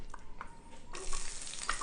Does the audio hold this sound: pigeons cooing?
no